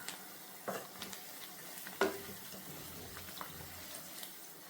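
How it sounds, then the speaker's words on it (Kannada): Green chillies frying with browned onions in a pan give a soft, quiet sizzle, broken by a few light clicks and scrapes of a stirring spoon, close and without talking. "ಹಸಿಮೆಣಸಿನ್ಕಾಯಿ ಹಾಕ್ಕೊಂಡು ಸ್ವಲ್ಪ ಅದನ್ನು ಹುರ್ಕೊಳ್ಳೋಣ"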